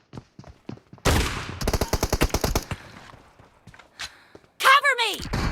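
Gunfire in the mobile shooter PUBG Mobile: a loud blast followed by a fast volley of sharp shots, then scattered softer thuds and a final burst of game effects.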